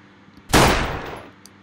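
A single loud gunshot booms in a video game and hits a car, with a sharp attack and a long decaying tail in an otherwise quiet setting.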